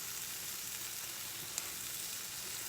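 Fish taco filling sizzles on a big griddle with a steady, soft, hissing fry, even and unbroken apart from one tiny tick, faint and close with no voices over it.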